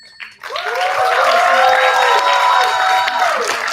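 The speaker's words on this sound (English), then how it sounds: "Let's give them a round of applause for that amazing debate" Audience at a debate competition grand final bursting into loud sustained applause with cheers and whoops after a speech, starting abruptly and holding steady for several seconds.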